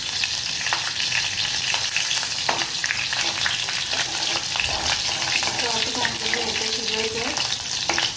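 Cumin seeds and chillies fry in hot oil in a pan, giving a loud, continuous close-up sizzle with scraping stir strokes and no talking.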